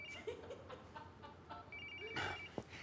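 A mobile phone rings with a repeating electronic tone through a noisy room, while bursts of background chatter and laughter rise and fall around it.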